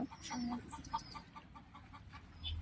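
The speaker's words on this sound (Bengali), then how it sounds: "এই যে আমার মুরগিগুলা" Chickens cluck on a rooftop garden in a steady series of short, soft notes nearby, with faint background noise and no talking.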